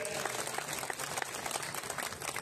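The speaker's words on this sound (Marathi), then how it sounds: "सगळ्यांनी टाळ्या वाजवून त्यांना शुभेच्छा द्याव्यात" Crowd applause at a Bharatiya Janata Party political rally: steady, dense clapping from many people, sustained throughout at moderate distance with no pauses.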